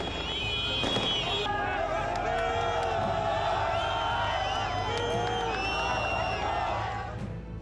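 A large, dense crowd in Gaza cheers and shouts to welcome released Palestinian prisoners arriving by Red Cross vehicle, a loud continuous roar with whoops, whistles and a sharp bang near the start.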